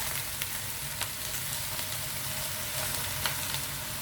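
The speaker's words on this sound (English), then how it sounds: "put them all in, and then give it a quick stir" Spinach fries in a pan with a steady, dense sizzle and a few light stirring taps, heard close and moderately loud.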